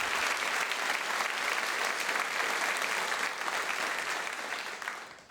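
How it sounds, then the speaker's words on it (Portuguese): Congregation applauding inside a church during a Portuguese-language evening worship service, steady dense clapping filling the room for about five seconds before easing off at the end. "Aplauda a sabedoria do Evangelho,"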